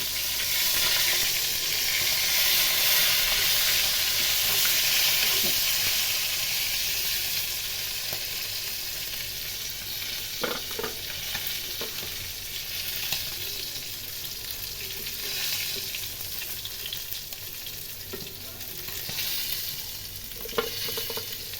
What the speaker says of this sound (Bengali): কড়া কড়া ভাজা দিতে হবে